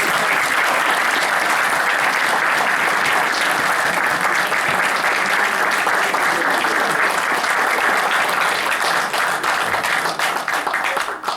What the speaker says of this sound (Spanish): Así que otro aplauso.